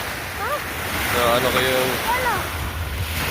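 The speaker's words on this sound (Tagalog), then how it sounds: "Malaking alon." Big ocean waves roll at sea around fishermen catching bait, a steady broadband wash with wind noise running beneath continuous nearby talking.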